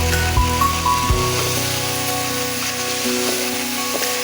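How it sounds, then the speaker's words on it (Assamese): Pieces of taro fry slowly in oil in a pan, giving a steady, close sizzle that carries on evenly throughout, with a faint low hum running underneath. "কচুখিনি এতিয়া ভালদৰে লাহে লাহে ভাজিম।"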